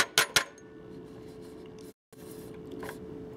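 Zinc pieces are shaken in lead nitrate solution inside a glass container, giving a couple of sharp clinking rattles near the start, then a quiet hiss with a brief dropout and faint later rustles.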